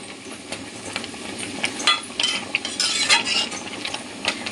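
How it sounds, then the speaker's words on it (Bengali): Bengali prawn malai curry gravy boiling in a covered pot, a soft, steady bubbling and sputtering with occasional small pops, close by and with no talk. "এই দেখো ঝোলটা ফুটছে, এখন টক বগিয়ে ফুটছে।"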